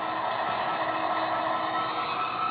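Model train rolling steadily along a home layout during an operating session, a continuous even running hum and rail rumble throughout at close range with no voices.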